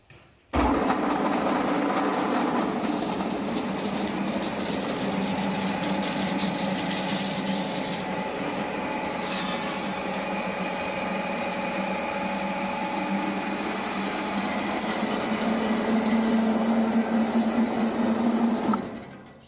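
Corn stalk feed pellet machine processing dry corn stalks mixed with corn kernels starts abruptly and runs with a steady loud mechanical whir and hum, then cuts off near the end.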